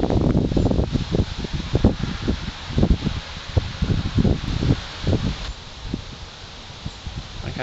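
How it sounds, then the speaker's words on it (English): Gusty wind buffets the microphone in low, uneven rumbles, with a constant rushing and rustling in the background. "it's pretty windy."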